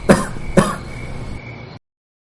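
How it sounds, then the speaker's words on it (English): Two short, sharp coughs in quick succession, close by, followed by a brief fading rasp before silence. "started to cough and sneeze"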